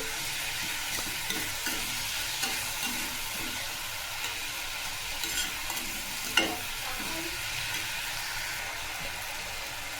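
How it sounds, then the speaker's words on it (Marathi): Spinach cooked with matki dal in a pan, stirred steadily with soft scraping strokes over a gentle continuous sizzle, close and fairly quiet, with one sharper clink of the spoon partway through. "पालक छान असं मिक्स करून घ्यायचं आहे भाजी सर्व डाळ मिक्स करून घ्यायचं आहे"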